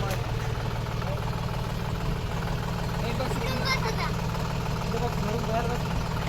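A farm tractor engine runs at a steady idle, a constant loud low rumble and chug that fills the whole stretch, with faint voices nearby.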